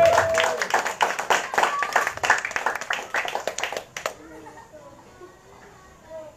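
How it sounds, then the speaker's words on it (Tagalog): A church congregation gives scattered, thin applause for about four seconds, uneven claps close and loud at first, then fading into quiet room murmur. "Ang hina ng palakpak sa Panginoon."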